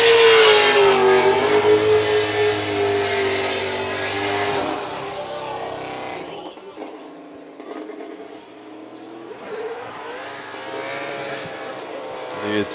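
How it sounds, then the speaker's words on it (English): A race car engine at Fuji International Speedway during Formula Drift Japan qualifying revs loudly and near, a strong rising and falling whine that fades into a lower, steadier drone, with someone talking over it throughout. "It's such a great sounding motor."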